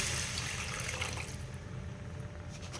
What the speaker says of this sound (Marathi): त्याच्यात आता मी पाणी ॲड करते